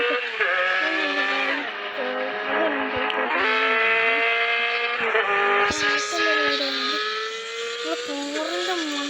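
A motorbike in a racing video game, its engine droning and pitching up and down through repeated revs, with tire skids and squeals layered on top, loud and continuous.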